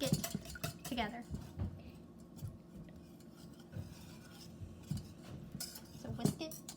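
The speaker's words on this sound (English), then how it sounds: "And then just whisk it together." A whisk clinks and scrapes against a bowl as dandelion muffin batter is mixed, irregular quiet rattling strokes with occasional louder taps, fairly faint, with soft voices in the background.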